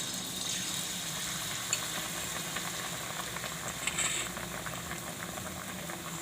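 A whole-bread pakoda fries in hot oil, making a dense, steady bubbling crackle that stays even and fairly close for the whole stretch, with a few brighter pops and no speech.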